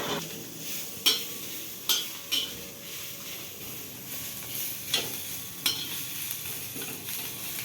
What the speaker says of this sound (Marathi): आणि मग आता ती आजी मस्त भाजून घेणार